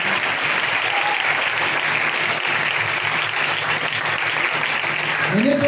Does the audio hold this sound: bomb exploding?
no